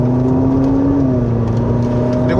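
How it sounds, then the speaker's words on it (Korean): A Ferrari SF90 Stradale hybrid runs with its engine held on under deep throttle on a winding road, a steady droning tone with a slight pitch dip, heard from inside the cabin. "하이브리드 모드인데도 불구하고 어느 정도 이상 엑셀을 깊게 밟으니까 네, 엔진이 켜져 있는 채를 계속 유지를 하네요"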